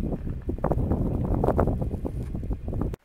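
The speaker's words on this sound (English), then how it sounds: "here comes the wind as soon as I try to do a video" Strong desert wind in the mountains near Saddle Mountain, Tonopah, Arizona, a steady loud roar buffeting the microphone that cuts off abruptly at the end.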